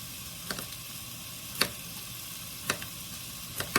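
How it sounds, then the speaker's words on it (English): Bacon fries in a pan with a steady crackling sizzle, broken by a few sharper pops and spatters at irregular intervals, close and moderately loud with no talking. "That bacon frying smells so good."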